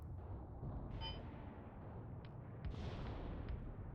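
Soviet artillery fire in a video game, distant booming blasts and a couple of sharper cracks rolling over a constant low rumble, faint and far off.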